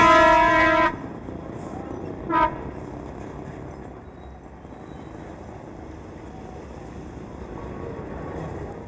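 An old train in China, its horn sounding a loud held blast at the start and a short toot soon after, then a steady rumble of wagons rolling along the track.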